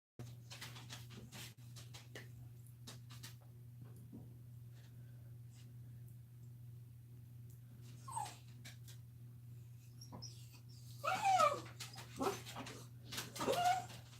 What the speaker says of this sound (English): now she's barking at her